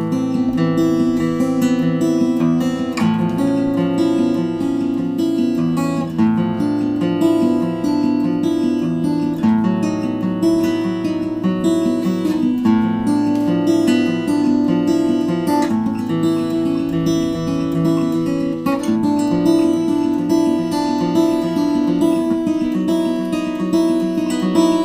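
An acoustic guitar plays an instrumental piece in a guitarist's arrangement at a moderate tempo, with continuous fingerpicked melody over bass notes, moderately loud and steady for roughly twenty-five seconds with no talking.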